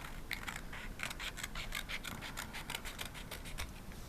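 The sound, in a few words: scissors cutting a paper puzzle piece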